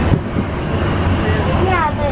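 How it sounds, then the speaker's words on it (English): The Disneyland monorail rolls along with a loud, steady low rumble and a whining hum inside the car, while voices chatter over it. "Welcome aboard the Disneyland monorail"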